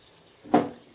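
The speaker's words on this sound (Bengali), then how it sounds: "এবারে তেলের মধ্যে দিয়ে দিচ্ছি 6টা শুকনো লঙ্কা। শুকনো লঙ্কাটাকে একটু ভেজে নেব।" Six dried red chillies drop into well-heated oil in a pan, giving one short, bright burst of sizzling spatter that swells suddenly and then fades away quickly.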